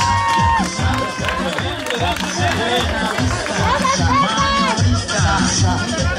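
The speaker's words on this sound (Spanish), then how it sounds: "Pero aplausos, señores" A live audience of a Spanish-language comedy show claps and cheers in a dense, continuous burst of crowd noise, with a voice shouting over the applause throughout.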